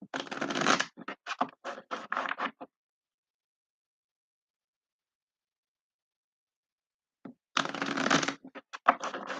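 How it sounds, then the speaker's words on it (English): A deck of angel oracle cards shuffled by hand: bursts of crisp riffling and flicking near the mic, a pause of silence, then another run of shuffling. "I'm going to shuffle these about 4 times and then pull out 8 cards from this deck"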